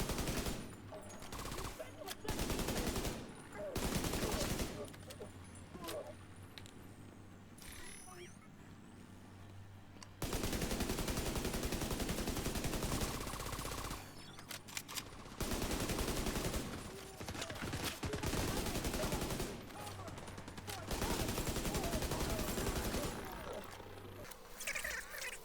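Bursts of gunfire in the video game The Division 2 as downed enemies are shot in the head, loud clustered shots broken by quieter stretches, with game sounds and someone talking.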